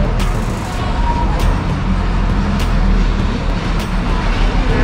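A tour bus at Taman Safari Cisarua near Bogor, Puncak, running steadily with a low engine rumble and road noise throughout, loud and close, with people talking over it.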